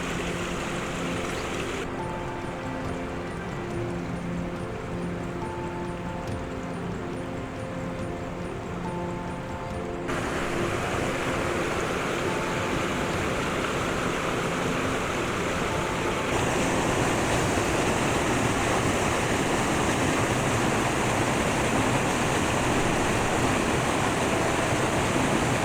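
Waterfall section of Koreelah Creek near a campground, where water rushes over slippery rocks in a constant broadband roar that grows louder in steps as the listener moves closer, with no talking.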